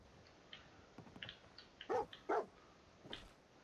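Dogmeat, the dog companion in Fallout 4, lets out a few short barks and yips, two louder barks close together in the middle, heard quietly over a low background.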